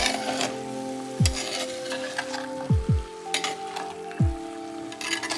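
Mutton curry with salt sizzles in a pan as it is stirred, a continuous frying hiss broken by several scraping strokes of the spoon against the pan.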